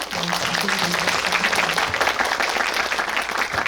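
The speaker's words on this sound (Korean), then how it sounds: "오늘 이야기 들려주신 이세영 배우님께 큰 박수 부탁드리고" A cinema audience claps for actress Lee Se-young during a guest visit screening at a Lotte Cinema hall, loud dense applause filling the room with a voice briefly audible over it.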